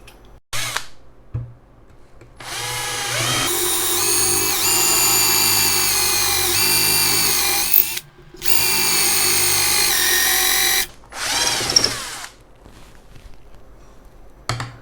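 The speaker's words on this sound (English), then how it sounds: "it's doing an amazing job with drilling into surfaces, given that this is quite tough wood to drill into" A Bosch GSR 120-LI cordless drill whines loudly in long sustained bursts, pitch shifting as it bites into tough hardwood, with brief pauses and a few clicks between runs.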